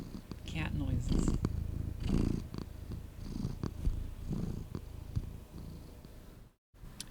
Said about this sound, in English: Everybody needs cat noises.